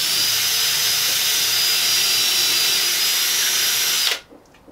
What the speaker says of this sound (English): Just gonna gently put my drill there.